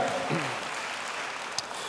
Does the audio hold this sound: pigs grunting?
no